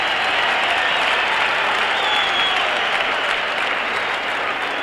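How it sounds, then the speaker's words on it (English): Steady, dense applause from a large stadium crowd at a 1978 NFL football game at County Stadium between the Green Bay Packers and Detroit Lions, sustained and loud throughout without a break. "Packer defense hears the applause at County Stadium."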